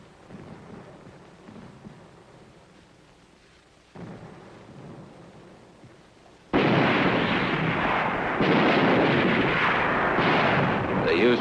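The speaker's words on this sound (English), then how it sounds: "They'd turn a few tanks into a regular artillery battery." Tanks used as an artillery battery in the Korean War fire heavy guns, producing deep booming blasts that swell into a sustained, loud roaring rumble after quieter distant thuds.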